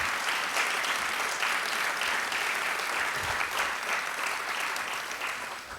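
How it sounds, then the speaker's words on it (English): A room full of people gives sustained, even applause at a chemistry company kickoff event honoring students. The clapping is dense and steady and tapers off slightly toward the end. "let's give them a great round of applause for being here today"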